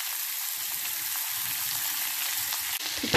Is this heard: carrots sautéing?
yes